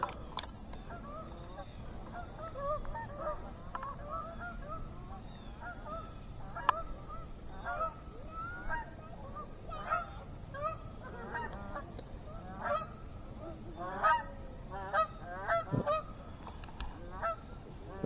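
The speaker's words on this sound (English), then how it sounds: "Geese are flying up real high." Distant geese honk repeatedly overhead, scattered calls growing busier toward the end, faint against a quiet outdoor background.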